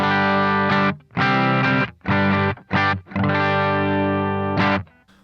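A Bluguitar Amp1 played through a Headrush setup with compression on, giving an electric guitar tone in several sustained strummed chords separated by short gaps, loud and close with no talking.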